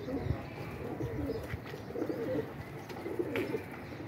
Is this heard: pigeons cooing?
yes